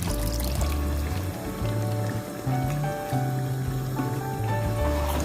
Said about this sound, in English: Now I will add the water